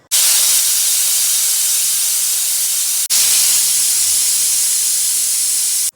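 A pressure cooker with toor dal sambar inside vents steam in a loud, steady high hiss that runs almost unbroken, cutting out briefly midway before resuming at full force.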